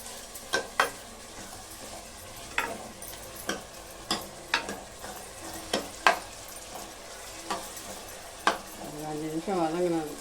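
Chicken curry (kulambu) sizzles in a pan while a spoon stirs it. Regular sharp taps and scrapes of metal on the pan sound over a constant frying hiss, and a voice is briefly heard near the end.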